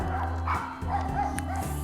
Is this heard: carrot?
no